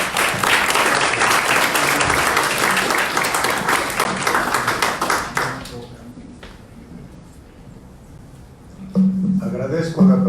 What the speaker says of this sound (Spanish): recibimos a nuestro presentador con un fuerte aplauso